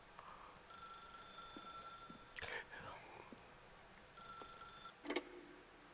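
An old-fashioned telephone ringing in The Stanley Parable: Ultra Deluxe video game, with two bursts of bright, steady ringing tones separated by a pause, heard clearly over low background ambience.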